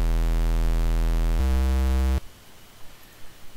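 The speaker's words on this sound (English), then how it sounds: "change this from a sine wave to a square wave." A loud, buzzy square-wave synthesizer bass tone in LMMS holds steady, drops to a lower pitch, then cuts off abruptly, leaving faint background noise.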